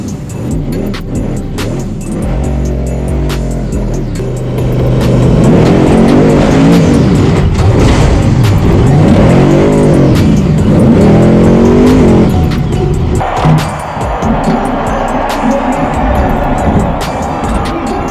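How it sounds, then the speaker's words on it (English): Terminator monster truck driving at the Indiana State Fairgrounds during a four-wheel jamboree finale, its loud engine revving and roaring continuously with rising and falling pitch, tires skidding, and crowd or arena noise in the background. "I drove the Terminator monster truck."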